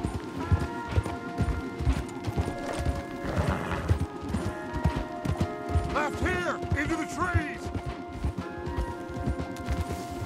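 Horse hooves clip-clopping steadily along a woodland path in the video game Red Dead Redemption 2, several horses ridden together, with a brief neigh, creaking tack and faint voices in the background.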